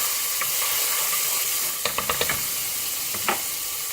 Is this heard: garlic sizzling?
yes